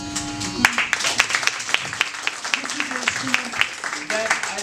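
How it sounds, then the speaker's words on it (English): Audience applause for a hand pan duo performing with a sitar player, dense scattered clapping from a crowd that carries on steadily throughout, fairly close and moderately loud. "then another rule of clap for Andrea Dinieri and Jeremy Dinieri"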